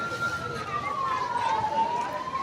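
A wailing fire engine siren sounds at a blazing cooler factory in Nagpur's Taj Bagh area, its tone sliding slowly downward over steady crowd and street noise throughout.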